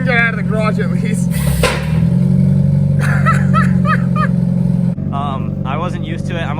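Mazda Miata with a failed rear end backing out of a garage, its engine droning loudly and steadily with a brief rev, while people talk and laugh over it.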